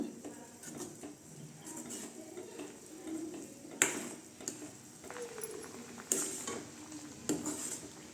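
A pot of drumstick leaf (moringa) soup bubbles and simmers steadily, with occasional clinks and scrapes of a utensil against metal, close by and without voices.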